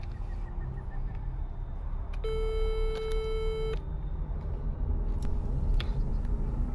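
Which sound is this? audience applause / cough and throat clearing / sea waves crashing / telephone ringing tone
telephone ringing tone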